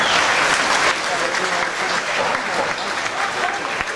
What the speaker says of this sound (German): Applaus für den Kämpfer in der roten Ecke